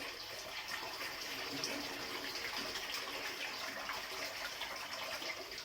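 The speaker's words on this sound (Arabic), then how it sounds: "هبدا بقى اصفي كده الميه دي" Water from a batch of rinsed pickled turnips pours steadily through a strainer, a continuous broad splashing gush close by that holds an even level for several seconds with no talk.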